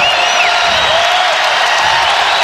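A college basketball arena crowd at a VCU versus Dayton game in 2019, a loud, dense roar of cheering and whistles filling the whole stretch without a break.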